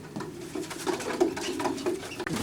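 Racing pigeons, including young birds, coo softly and repeatedly inside a loft, with low throaty calls close by and faint shuffling and clatter in the background.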